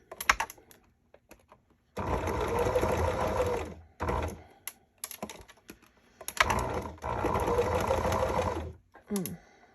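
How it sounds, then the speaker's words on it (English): A sewing machine stitches gathers into ribbon ruffles in several bursts of rapid mechanical whirring separated by pauses, close and fairly loud, with no voices. "start the machine to get a little more gathers in this section"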